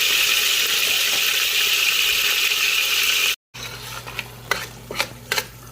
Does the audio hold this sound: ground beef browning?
yes